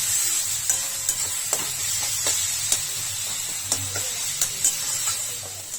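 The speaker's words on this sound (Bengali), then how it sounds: "ভালো করে ভেজে দিতে হবে আদা রসুনটাকে, একটু লাল লাল করে ভেজে নিতে হবে" Ginger and garlic frying in oil, a constant bright sizzle punctuated by several sharp spatula taps and scrapes against the pan at irregular intervals, close up with no speech.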